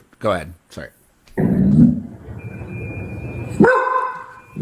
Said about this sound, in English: There's one mad puppy.